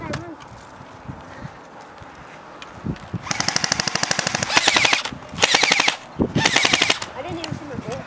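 Airsoft guns fire rapid bursts on an outdoor field in Colorado, with loud close strings of shots in several clusters after a few seconds of quieter movement, and voices sound faintly in between.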